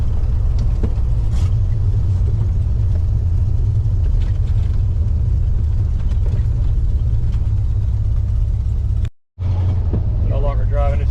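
A 1986 Ford F150 with a ZF5 transmission swap and exhaust lacking an X pipe cruises in fifth gear, its steady low engine and exhaust rumble droning continuously inside the cab, with a brief dropout near the end.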